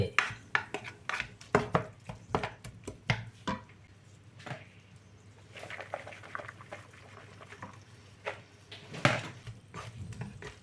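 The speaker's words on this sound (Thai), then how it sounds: "ตอนนี้เรากำลังผัดไส้" Stir-frying a filling of carrot and lettuce with tomato sauce for stuffed omelette with mackerel: repeated sharp clinks and scrapes of a utensil against a pan in an irregular rhythm, close and fairly quiet, with no talking.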